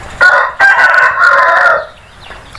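A rooster crows loudly and close by in one long call, with a brief cluck before it and quiet afterward.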